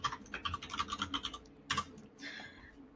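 Rapid typing on a computer keyboard, a quick run of close, crisp keystrokes that pauses and then gives a short final burst, with no voices.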